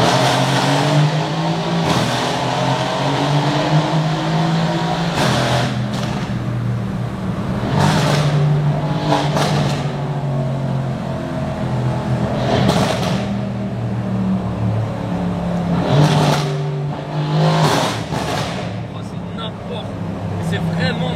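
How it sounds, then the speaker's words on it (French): A Mercedes C63 AMG accelerates hard inside a tunnel, its engine rising in repeated loud surges with sharp bursts between them, heard close from the cabin while someone talks over it. "tu peux pas t'empêcher de mettre des coups dans les tunnels"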